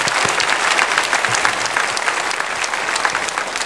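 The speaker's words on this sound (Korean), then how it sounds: "우리 일어날 때 큰 박수로 환영하겠습니다." A church congregation gives a big round of applause to welcome an elder and his wife at Sunday worship, dense continuous clapping from many hands filling the room.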